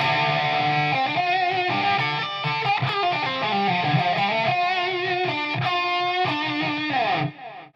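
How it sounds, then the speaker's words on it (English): A distorted electric guitar through a Digitech RP1000 solo delay preset plays a lively melodic run with echoing repeats trailing each note, continuous and loud, cutting off abruptly at the end. "you get to hear solo delay."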